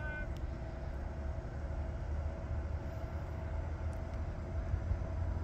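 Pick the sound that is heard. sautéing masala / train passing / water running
train passing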